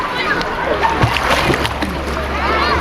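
Child kicking and splashing in a backyard swimming pool, with continuous close sloshing and splatter under an adult's encouraging talk and a voice.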